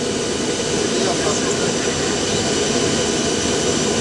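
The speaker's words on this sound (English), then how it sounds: "let's watch a beautiful IL-96 nighttime landing into Moscow Sheremetyevo" An Ilyushin IL-96 jet airliner lands at night at Moscow Sheremetyevo, heard as a steady, loud, broadband roar of jet engines that holds constant throughout.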